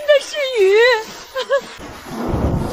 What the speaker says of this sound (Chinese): 下雨了，下雨了！